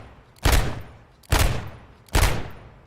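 Three evenly spaced gunshots fired from the hip in Modern Warfare 3, each a sharp, loud crack with a short decaying tail, roughly one per second.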